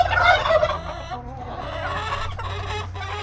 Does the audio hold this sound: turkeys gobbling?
yes